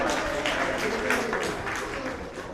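Audience applause at a Jain Dharma play performance, a steady wash of clapping from a crowd that holds evenly throughout, with a faint voice underneath.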